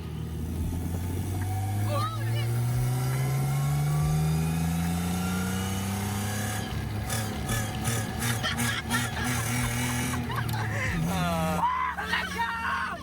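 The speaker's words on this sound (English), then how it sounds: "Clutch kick." A Nissan Skyline R34 converted to a manual gearbox revs with a climbing engine note, then breaks into choppy, rapid revving as the clutch is kicked, with excited shouting voices over the car.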